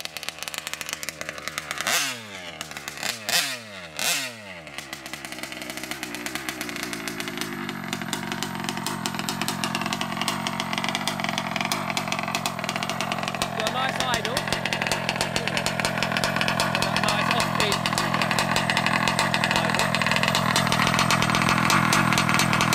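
A Diablo 88 Baja engine ticks over at idle, warm and running slightly rich, with a steady, close, continuous mechanical drone and a few brief revs or bursts near the start.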